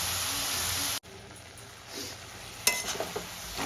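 Boiled papaya being sautéed with fish head in a pan, with a loud sizzle at first and then a quieter hiss, followed by a few scraping stirring clinks near the end.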